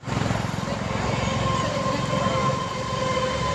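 A train rumbles steadily past at close range with a continuous loud roar and a faint high whine, accompanied by voices talking underneath throughout.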